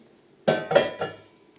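A metal pot is set down with three quick clanking knocks in succession, close and ringing briefly before fading into quiet.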